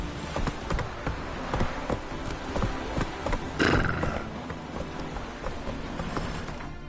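Roach the horse gallops in The Witcher 3 with steady rhythmic hoofbeats close by, and a whinny cuts in midway over a buzz of insects.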